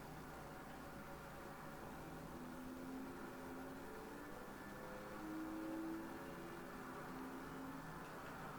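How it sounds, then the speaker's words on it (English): A Porsche Taycan electric car in Project Cars 3 gives off a faint, steady electric whir with a soft rising whine that swells slightly now and then, under a constant noisy hiss and with no voices. "Some of them, like this Porsche Taycan, it makes a weird sound"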